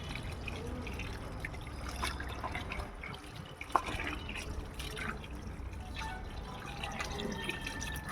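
Water is poured into a mix of garden soil and other ingredients for Jeevamrutham, a faint steady trickle and drip that continues throughout with one sharp knock midway.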